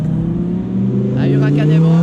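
A new Audi RS6 at a supercar rally event holds a loud, close, steady engine drone that rises slightly in pitch, with a voice talking over it.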